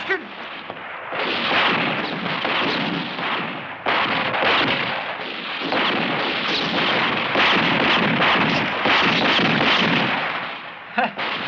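Dense, continuous gunfire at a firing range in a 1977 comedy action film roars almost without pause, loud and close, with brief dips and a final sharp report.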